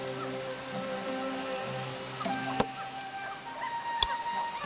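Steady soft rain falls in The Settlers video game, a faint continuous patter under quiet tonal game music, with two brief sharp ticks near the end.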